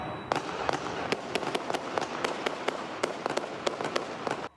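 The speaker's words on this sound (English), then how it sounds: "right before the sound of multiple gunshots ring out." A cell phone recording of a shootout in Little Italy, San Diego, with a police officer wounded, picks up a rapid string of sharp gunshot cracks, about a dozen irregular pops fired at a moderate distance over steady background noise.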